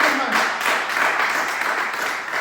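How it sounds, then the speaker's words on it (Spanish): Church congregation applauding during a Spanish-language sermon, a steady dense wash of clapping that holds evenly from start to finish at moderate loudness. "¿Le puede dar un aplauso a Jesucristo?"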